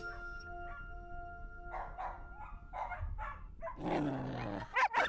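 A dog whines in soft high whimpers, then lets out several yips and barks, close by and fairly loud, with a louder burst at the end.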